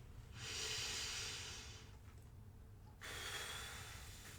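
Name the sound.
loud breathing during singer's stretches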